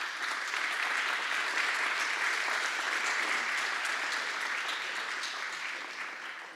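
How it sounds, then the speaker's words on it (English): Sustained applause from the audience at a commission meeting, a dense steady clatter of many hands clapping for several seconds before easing off slightly at the end. "I think that deserves a round of applause if I can get one."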